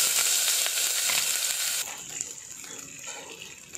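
Spice paste hits hot oil with a loud, hissing sizzle that dominates at first, then settles abruptly into a softer, steady bubbling crackle.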